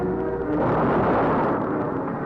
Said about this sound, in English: This can be most definitely seen in a car explosion.